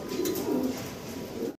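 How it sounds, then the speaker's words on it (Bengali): Russian Bolgar pigeons give soft, low cooing at close range, a couple of murmuring rolls in a quiet setting. "রেড কালারের ভিতরে রাশিয়ান ভাই, বলগার কবুতর দেখতে পারতেছেন"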